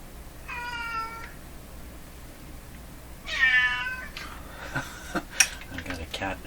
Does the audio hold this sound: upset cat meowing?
yes